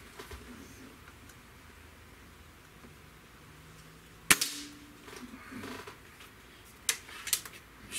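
A single sharp crack from a Gamo air rifle shot stands out near the middle, followed by a few smaller clicks and knocks against quiet background hiss.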